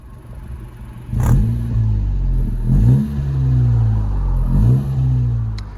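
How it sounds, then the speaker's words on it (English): Honda Civic FK7 with a 1.5 VTEC Turbo engine and sports exhaust, a deep, close engine hum with three short revving swells rising and falling over a steady idle rumble. "when you step into the car and start it, there's a little hum"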